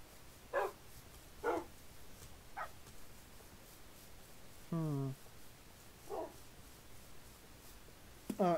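Dogs bark in the Minecraft Farming Valley modpack, several short separate yips and barks spread out at moderate volume, with one longer whine-like bark in the middle.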